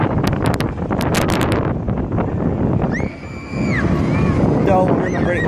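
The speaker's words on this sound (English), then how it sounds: "It's kind of getting windy up here" Gusty wind buffets the microphone in a loud, steady rush, with sharp bursts and a brief tonal whine partway through.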